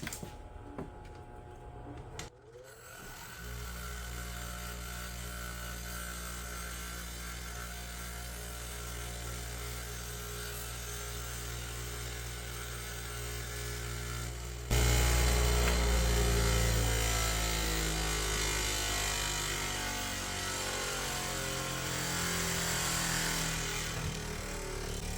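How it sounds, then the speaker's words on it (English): A power grinder works down a TIG weld, running with a steady droning whine for over twenty seconds and growing louder and rougher midway as it bites harder into the metal, with no talking. "we're going to want to grind this off over here"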